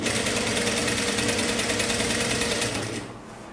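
A sewing machine runs steadily, stitching the shoulder seam of a sleeveless top, with a continuous close motor whir that eases off near the end.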